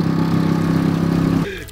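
A boat's outboard motor runs at a steady, loud, buzzing drone close by on a river, then its pitch drops sharply as the engine is throttled back near the end.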